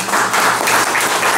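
Sustained audience applause at a Boston mayoral forum, a dense, loud wash of many hands clapping that carries steadily from start to finish with no voices over it.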